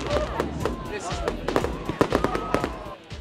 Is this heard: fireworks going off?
yes